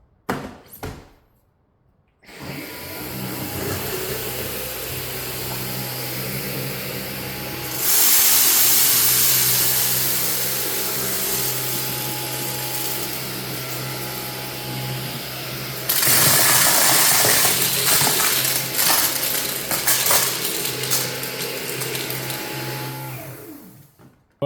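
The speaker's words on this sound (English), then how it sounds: "some of the rice get pushed back and some of the beans get kind of pushed all over the place, but the powder gets sucked up" A Dyson Gen5detect cordless vacuum runs steadily and loudly while sucking up spilled rice, beans and powder, its motor pitch stepping up partway through as power rises, with rattling debris, then cutting off at the end.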